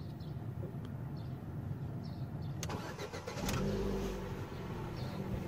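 A Ford Focus 3 engine cranks and catches, a faint start followed by a brief rev and then a steady idle, heard from nearby.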